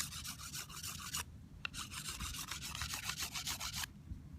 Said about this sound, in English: Just scraping my knife across here.